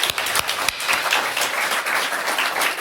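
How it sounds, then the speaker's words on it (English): Audience applause at an open mic evening of a writing festival, a steady wash of many hands clapping for the full stretch, close and even with no voices. "So if we can give him a round of applause first before he reads."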